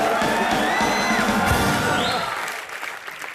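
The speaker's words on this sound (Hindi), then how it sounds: "जोरदार तालियां इनके लिए" A television comedy show's studio audience bursts into dense, loud applause mixed with cheers and whoops, tapering off toward the end with music faintly underneath.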